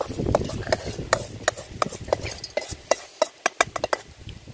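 Roasted coriander seeds being scraped and spooned out of a pan for a village-style Kongunadu chicken curry, a run of sharp metallic taps and scrapes at an uneven rhythm, close up, with a person talking over them.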